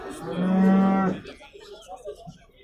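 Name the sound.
cow mooing with its calf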